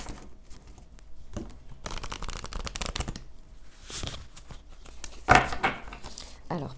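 A large oracle card deck being shuffled and handled by hand to draw a card, giving dense papery riffling and flicking in bursts, close and fairly loud, with a sharp snap partway through.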